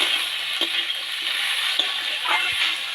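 A fish and fig curry with turmeric and salt is stirred in a pan, giving a soft hiss with a few spoon scrapes and light liquid sounds.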